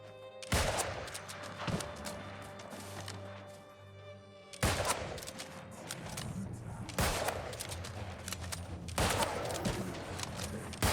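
Musket gunshots fired in the video game New World: Aeternum, several loud sharp reports spaced a few seconds apart over a steady game ambience with music.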